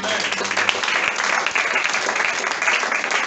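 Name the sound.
congregation applauding in acclaim of the Lord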